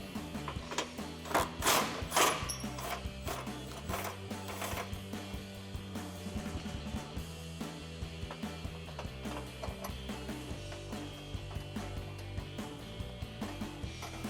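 A ratchet works slowly on a front bumper bolt of a 2017-2022 Ford F-250 during a heavy-duty LED bumper install, giving repeated mechanical clicking and metallic clanks, close and moderately loud, with no talking.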